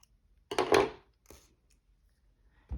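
Scissors cut sewing thread after a button is knotted on, heard as a short, close, crisp snip followed by a fainter second snip and a brief click at the end, in a quiet room.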